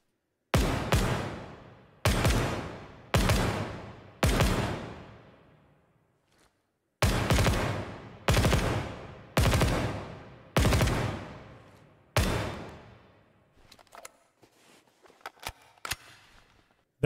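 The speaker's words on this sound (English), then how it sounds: "Next up, we've got the SCAR DMR." SCAR DMR rifle firing in the Ground Branch video game: eight loud, evenly paced single shots, each with a long echoing tail, followed by fainter scattered clicks and handling noises.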